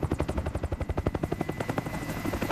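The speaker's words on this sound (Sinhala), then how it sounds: "අපේ හෙලිකොප්ටර් එක එනවා." A helicopter arriving in the video game IGI 2 during a snow mission, its rotor producing a loud, rapid, steady thudding chop close by, with no talk over it.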